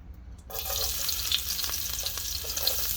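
Garlic hits about three tablespoons of hot oil in a pan and bursts into a loud, steady sizzle with faint stirring scrapes, close up and with no voices.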